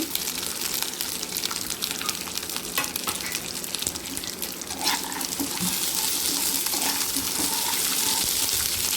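Capsicum and four or five green chillies frying in a pan, a steady close sizzle with stirring scrapes and a brief louder spit midway, continuing alone without talk.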